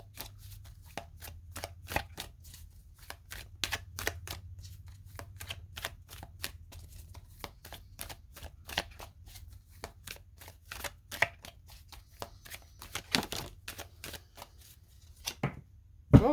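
Tarot cards being shuffled in a rapid run of dry papery riffles and taps, close and steady, with no voices over it.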